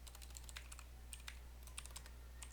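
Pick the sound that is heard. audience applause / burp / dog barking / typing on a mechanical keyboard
typing on a mechanical keyboard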